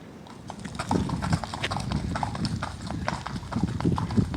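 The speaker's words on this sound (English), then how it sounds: "Maybe you can rent horses up here." Horses' hooves clip-clopping in an uneven, overlapping rhythm on a hard surface, fairly close, with some faint background voices, on Cerro de la Estrella in Mexico City.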